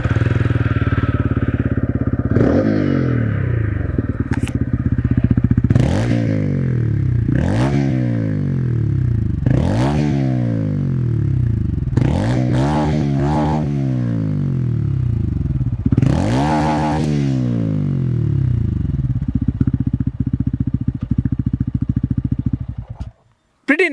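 A TVS Ronin 225 motorcycle engine cold-starts and idles loudly and close, with several sharp throttle blips rising and falling over a steady low rumble before it cuts off.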